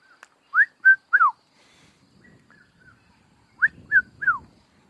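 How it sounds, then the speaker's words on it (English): Red-chested cuckoo calling outdoors: two clear bursts of three rising-falling whistled notes, loud and near, separated by a short quiet gap with faint low background rustle. "And the red-chested cuckoo."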